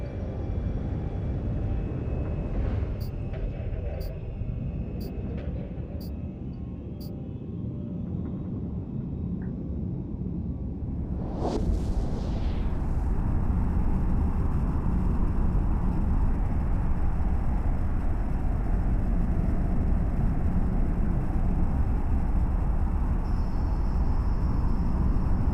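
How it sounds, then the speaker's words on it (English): A spaceship warp drive from EVE Online engages with a deep, steady rumble, a rising whoosh swelling partway through, then a sustained loud drone that continues to the end, with faint chimes early on. "Warp drive active. Warping commenced."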